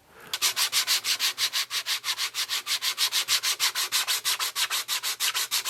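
Rhythmic back-and-forth sanding of a small 3D-printed draft tube part, up to 180 grit, steady rapid scratchy strokes, close up and alone.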